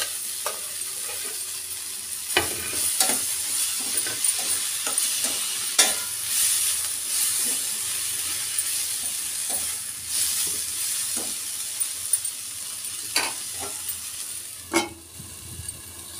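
Capsicum frying in a pan for oats khichdi, a constant bright sizzle and hiss with a spatula scraping and clacking at irregular intervals, close up and with no voices.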